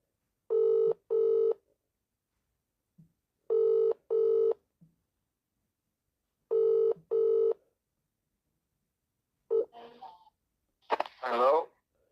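On an outgoing phone call, the ringback tone repeats as three evenly spaced double rings, then the line picks up and a voice briefly speaks.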